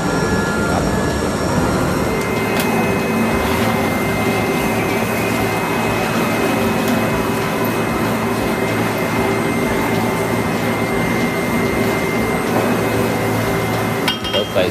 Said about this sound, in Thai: อย่างที่ผ่านการผสมจากเครื่องภายในเข้ามาผสมกับเครื่องผสมยางภายนอกอีกทีหนึ่ง